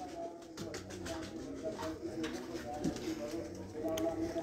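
Breeder pigeons kept on a rooftop cooing in soft repeated coos, close by and modest in level, under someone talking throughout.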